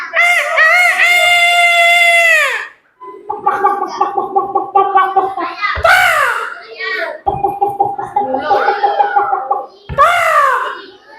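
A voice imitates a rooster crowing, drawing out several cock-a-doodle-doo calls in a row, loud and close, with short pauses between.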